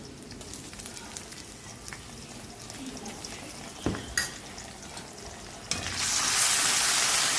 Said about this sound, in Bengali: ভালো করে এটাকে ভাজবো